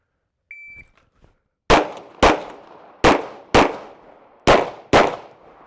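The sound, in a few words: shot timer beep then pistol shots, two rounds per target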